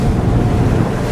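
Lomac Adrenalina 7 powerboat running offshore in waves at about 18 knots with its engine trimmed down, a loud, continuous roar of engine, hull and rushing water with heavy wind noise, close and unbroken.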